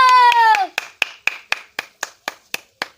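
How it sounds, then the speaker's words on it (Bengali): A voice speaks briefly, then a single person claps nine times. The crisp, close hand claps are evenly spaced, each about a quarter second apart, in a village comedy sketch. "হাত তালি দে।"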